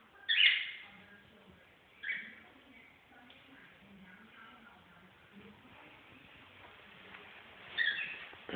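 A cockatiel gives three short, bright chirps spaced several seconds apart, moderately loud over a faint low murmur of background voice.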